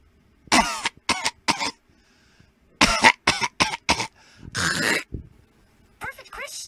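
A person imitates a flu sufferer with bursts of harsh, close coughs and hacking in several groups, ending with a rough, drawn-out throaty sound.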